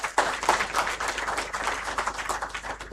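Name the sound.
audience applause at a prize ceremony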